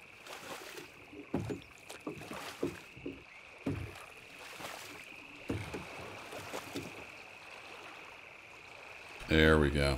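In the video game SCUM, oars splash and dip in a slow, regular rhythm across lake water, soft and close, with a steady high tone behind and a voice at the end.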